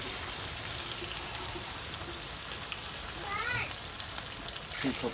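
A steady stream of water, a cup at a time, splashes into a pot for beef stew, a continuous pouring wash that swells slightly toward the end.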